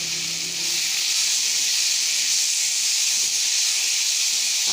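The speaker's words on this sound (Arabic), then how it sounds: "اشوحه لغايه اما البصل يدبل" Onion sizzles in hot oil in a frying pan, a loud, continuous bright hiss that swells slightly after the first second and holds steady, close up with no talking.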